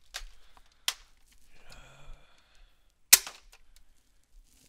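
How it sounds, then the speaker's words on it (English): Airsoft gun shots from a Retaliator/Recon MK II fitted with a 12 kg spring: sharp, loud snapping reports, a few scattered over several seconds, with quieter mechanical clicks and shuffling between them and no talk. "we'll come back to the Crony and shoot a couple more shots"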